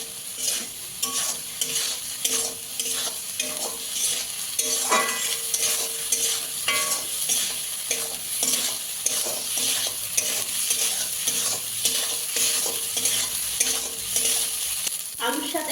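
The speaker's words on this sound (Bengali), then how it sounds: "ভেজে রাখা আলুগুলো মশলার মধ্যে দিয়ে দেবো এবার আলুটার সাথে আবার মশলাটা একটু কষিয়ে নেব" Fried potatoes are stir-fried into spice paste for a crab curry made without onion or garlic, with rapid, continuous scraping and stirring strokes over a steady close sizzle throughout.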